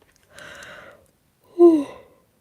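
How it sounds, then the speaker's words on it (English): A tired person yawning near a whisper microphone: a soft breathy inhale followed by a louder voiced, falling yawn, close and alone. "Sorry again, yawning."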